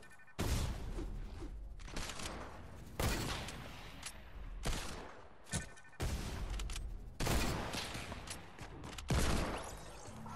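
Repeated pistol shots in a Fortnite sniper 1v1 map crack out loud and close in irregular bursts, each sharp report followed by a brief decaying tail, with several volleys spaced a second or two apart and no talk over them.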